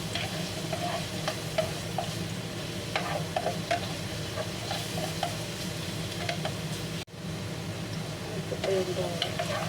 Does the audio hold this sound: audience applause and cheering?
no